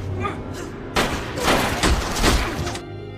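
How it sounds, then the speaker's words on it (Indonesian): A rapid burst of several loud gunshots in a film scene, sharp cracks in quick succession lasting a couple of seconds, with quieter background before and after. "Kun Pen kabur dari tembakan brutal itu."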